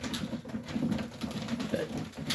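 Young Serbian Highflyer pigeons coo softly in a loft, a continuous low murmuring with light rustling and patter, close and steady throughout.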